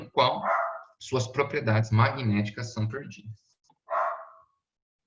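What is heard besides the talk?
dogs barking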